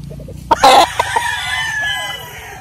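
A Gilmore Sweater gamecock rooster lets out a single loud, close crow, a rising then drawn-out call lasting about two seconds after a short rustle, with no one speaking.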